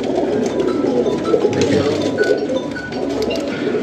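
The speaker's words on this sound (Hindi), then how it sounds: "एक से बढ़कर एक टैडी कबूतर।" Teddy pigeons cooing steadily at close range, a continuous low murmuring coo with soft overlapping calls and no talk.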